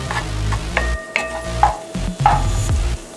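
Garlic sizzles in a frying pan during cooking, with close, loud crackling hiss and repeated scraping and stirring noises over a few seconds.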